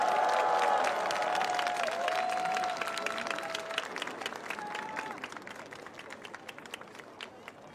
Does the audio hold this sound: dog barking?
no